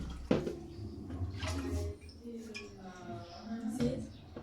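Extracted groundnut (peanut) juice poured into a cooking pot, a close liquid splash and gurgle with dripping, under a woman's speech.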